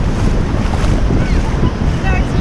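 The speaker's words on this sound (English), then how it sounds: "The waves were as high as... How high would you say the waves were?" High sea waves off Malaysia during a monsoon rainstorm make a loud, steady roar of surf and rushing water from a boat, buffeted by heavy wind noise on the microphone, with faint voices in the background.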